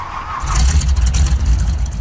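A truck engine in Farming Simulator 2013 hums steadily at a low rumble, rising slightly as it revs, loud and close without any voices.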